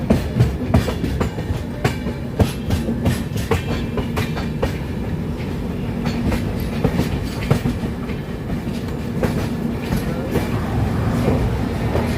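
A passenger train on the Howrah to Bangalore route rolls steadily along the rails with a continuous low rumble and repeated clickety-clack of wheels over track joints, close and fairly loud.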